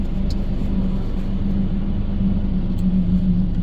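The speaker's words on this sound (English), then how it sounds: "as you can see from the big trucks coming past" Big trucks roll past on a village road lined with truckers' cafes, giving a steady, loud low rumble that holds throughout with no pause and no talk.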